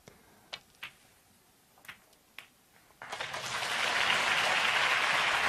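Snooker crowd at the 2017 China Open breaking into loud, sustained applause after a few sharp ball clicks and taps, the clapping swelling and holding steady to the end.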